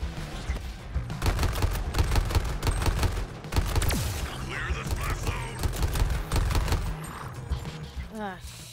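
Cannon and gunfire in an Xbox Series S video game: rapid bursts of repeated shots and heavy blasts, loud and dense, with a voice talking over parts of it.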